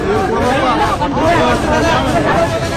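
Villagers in Karnataka celebrating the rescue of a truck driver from floodwater make a loud, continuous crowd din of overlapping shouting and chatter, with no pauses.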